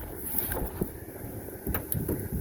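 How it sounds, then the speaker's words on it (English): Strong wind gusts outdoors beside a 2010 Ram 2500 heavy duty truck, buffeting the microphone with a steady roar and occasional louder bursts. "It's so windy here today, it's pathetic."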